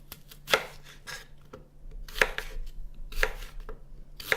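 A knife chops fresh apple on a cutting board in sharp, irregular strikes, close and clear, with pauses between bursts of cuts and no voices.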